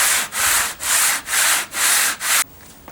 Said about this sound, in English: we've got lots of nice smooth timber we're having to sand down